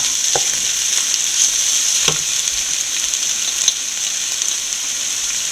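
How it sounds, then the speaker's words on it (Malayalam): Onion, ginger and garlic sautéing in a pan for egg roast give a loud, bright, steady hiss of frying, with a few sharp spatula taps against the pan and no talking. "നമ്മുടെ സവോള ഇഞ്ചിയും വെളുത്തുള്ളിയും എല്ലാം നല്ലപോലെ വഴന്നിട്ടുണ്ട്"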